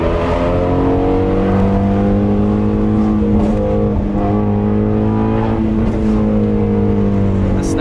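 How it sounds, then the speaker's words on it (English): A Ford Mustang GT350 engine drones loudly and steadily while the driver rev-matches, with quick throttle blips and a couple of sharp exhaust snaps breaking through the drone. "Rev matching in a 350 is god tier."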